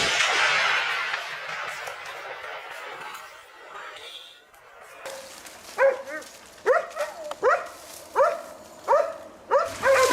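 Hunting dogs bark in a run of sharp, repeated yelps during a wild boar hunt, loud and close in the second half, with rustling and faint noise earlier.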